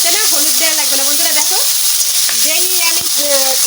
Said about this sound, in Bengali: কড়াইতে দিচ্ছি সাথে সাথে লাল হয়ে গেছে চিংড়ি মাছের